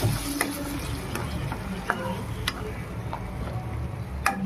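Onions and ground tomato paste being sautéed and stirred in oil in a pan for a Tamil small-onion kara kuzhambu, giving a steady low sizzle broken by scattered clicks and scrapes of a spoon.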